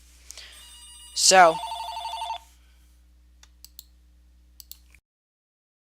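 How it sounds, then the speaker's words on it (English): A mobile phone gives a brief electronic ringtone burst lasting about a second, close and clear, followed by a few faint clicks and near silence, with one short spoken word. "sorry, my phone just rang."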